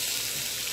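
Blended tomato and tomato paste hit a hot pan for chicken kabsa macaroni, a steady frying hiss followed by a sudden louder burst of sizzling at the very end.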